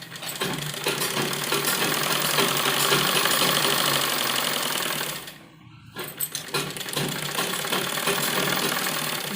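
A sewing machine stitches baby dress fabric with a fast, steady mechanical whir. The running briefly slows and pauses midway, then resumes, close and loud with no talking.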